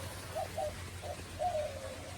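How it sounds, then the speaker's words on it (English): White-winged doves coo in a bird aviary, a few soft, low, hooting calls in short phrases, fairly near, over steady background hum. "Those are white-winged dove sounds"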